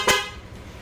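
A car horn gives one short, sharp toot, loud and near, then fades into quiet road noise.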